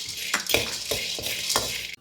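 Peanuts roast in a pan under a continuous bright hiss, with several quick scraping strokes of a stirring spoon at an uneven pace, close by, before cutting off abruptly.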